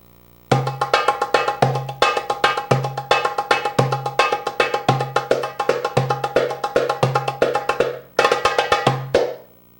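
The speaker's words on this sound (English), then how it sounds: "The next rhythm that we'll play is called malfouf." A doumbek plays the Arabic malfouf rhythm, a steady, syncopated 2/4 pattern: deep bass strokes mixed with sharp, bright slaps, repeating evenly at close range.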